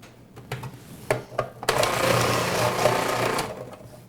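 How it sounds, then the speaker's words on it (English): A food processor whirs steadily while chopping tomatoes for an Italian sauce, starting after a few short knocks and running for about two seconds before stopping, close and moderately loud. "Your food processor is nice and quiet."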